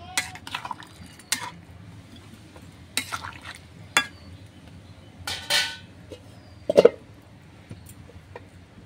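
Metal spoon clinks and scrapes against a pot while garam masala is stirred into a snakehead fish curry, in several separate bursts of stirring with quiet pauses between, close up and with no talking.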